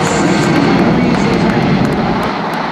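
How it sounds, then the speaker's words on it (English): A huge C-17 transport airplane banks sharply in a tight turn at an airshow, its engines producing a loud, continuous broadband roar that dominates throughout. "As it comes by, it's going to demonstrate the extremely tight turning radius of this huge airplane."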